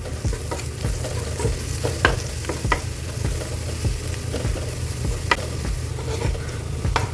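Ivy gourd being stirred in a pan with chili powder, turmeric and salt for a Kerala thoran, a steady close sizzle broken by sharp scraping clicks of the spoon against the pan, with no talking.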